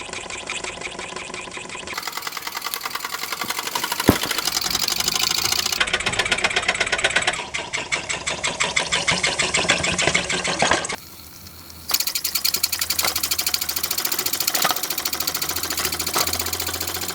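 A Mamod TE1A model steam tractor runs with a steady, fast mechanical chatter and rhythmic ticking close by, continuous with brief dips and shifts in tone.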